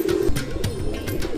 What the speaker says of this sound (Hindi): अदनान भाई फिर एक जोड़ लेकर आए हमारे लिए, और काफ़ी ज़्यादा देखने में ही वो साफ शफकाफ कबूतर नज़र आ रहे हैं।